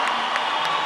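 A roller derby crowd cheers as London gets its first lead jammer, a broad, sustained roar from the stands with a few brief spikes of whoops and claps.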